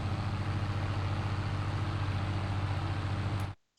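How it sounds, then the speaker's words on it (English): A small tractor engine in Farming Simulator 22 idles with a steady low drone, holding an even level before cutting off abruptly near the end. "It's a small tractor."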